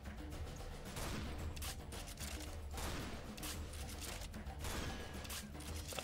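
Dense, continuous gunfire rattles through a Serious Sam 3 BFE battle, rapid overlapping shots and loud bursts with no clear break across the stretch.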